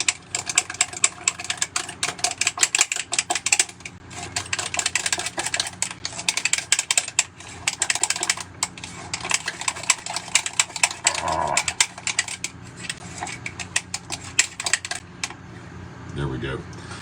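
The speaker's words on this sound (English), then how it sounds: "Let me just mix it a little bit longer." BlackDuck Black paint is stirred and scraped in a container, a fast, steady clatter of tool against sides that runs nearly continuously with brief pauses, close and prominent.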